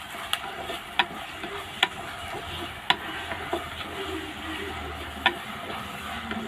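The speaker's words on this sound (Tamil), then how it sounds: "வெங்காயம் நல்லா வதங்கட்டும்." Onions sauté in a pan over a wood-fired stove, giving a soft continuous sizzle broken by several sharp scrapes and clicks of a spoon stirring. No one speaks.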